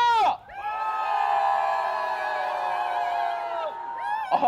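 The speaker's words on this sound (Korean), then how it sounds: "우리 여성들의 날을 맞이해서 여성들 자신과 위에 힘찬 함성 한번 외쳐보겠습니다." A crowd at a women's day rally lets out a loud, sustained cheer lasting several seconds, a dense mass of voices shouting together before fading out.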